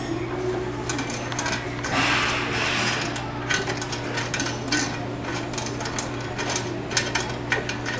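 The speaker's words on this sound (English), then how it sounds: "You turn the key about 7 revolutions counterclockwise." Key turning counterclockwise in the cover lock of a Detex ECL-230D door closer, a close series of small metallic clicks and ratcheting scrapes spread across the clip over a low steady background hum.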